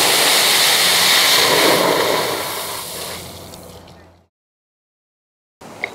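Water gushing from a fire hydrant as air is bled off before hose testing, a loud broadband rush that fades over a few seconds to silence, then a brief faint noise returns.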